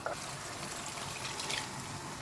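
Water poured from a mixer jar into a cooking pan of okra gravy, a soft continuous pouring hiss that is quiet and steady and heard alone.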